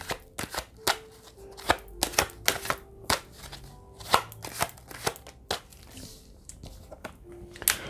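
A deck of tarot cards shuffled by hand, producing a quick, close run of crisp riffling snaps and flutters at an uneven rhythm, with no voices.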